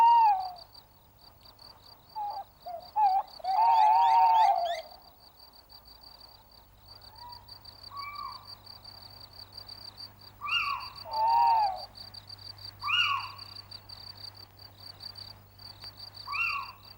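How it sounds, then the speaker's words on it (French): Owls hoot at night, their calls coming in separate bursts with quiet gaps between them, set against a constant background of crickets and insects. "Tu l'as deviné, ce sont les hiboux et les chouettes."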